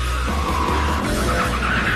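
Outgoing BMW M5 with a naturally aspirated 500 horsepower V10, driven hard with tires skidding and squealing, a loud continuous roar of engine and rubber close by.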